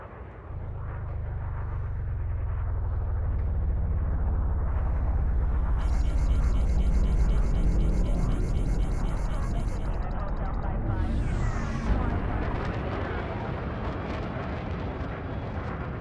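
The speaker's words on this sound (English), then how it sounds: "Frameshift drive charging" A low, rising rumble of a Frame Shift Drive charging in the space game Elite Dangerous builds and holds loud throughout, with a pulsing high whine layered in midway and a sweeping tone near the end.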